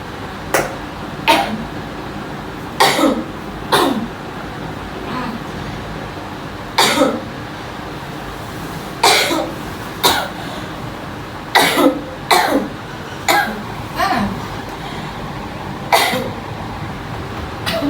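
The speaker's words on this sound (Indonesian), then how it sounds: "Aku batuk terus ya." Repeated harsh coughs, close and loud, coming in irregular clusters of two or three with short pauses between.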